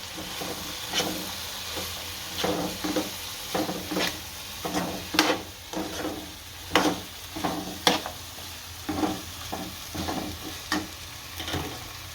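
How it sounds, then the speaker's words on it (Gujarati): Onions tossed into hot oil over cooked-down tomatoes for a Gujarati green onion curry, sizzling steadily while a spoon stirs them in repeated scraping strokes, close and moderately loud with no talk. "હવે આ ડુંગળી છે એ નાખી દઈ બધી, અને હલાવી નાખશું સારી રીતે।"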